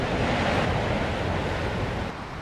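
Rough seas in Backstairs Passage, South Australia, surge around historic cargo sailing ships as cold wind blows, a dense, steady roar of surf and gusting wind that fills the whole clip and eases slightly toward the end.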